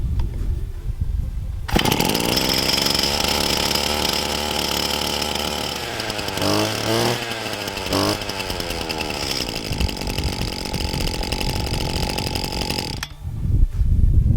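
Husqvarna 525RX brushcutter with its two-stroke engine catching and running: a loud, close, continuous buzzing roar for about eleven seconds, with pitch sweeps as the throttle rises and falls midway, then cutting off abruptly, no talk.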